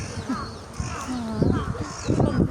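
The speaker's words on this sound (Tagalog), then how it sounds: "Yan guys, may uwak, oh. Ayan ang uwak, oh." Crows caw a few times at a distance over outdoor background noise near a river at Nagoya Castle in Japan, with a person talking nearby.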